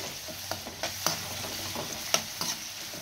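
Onions sizzle softly in a pan as they brown for a potato-pea-paneer dish, with a few sharp spoon clinks and scraping stirs over the steady frying hiss.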